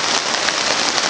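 Rain pours steadily at an outdoor show jumping event, a dense, loud, unbroken hiss of drops hitting surfaces with no voices over it.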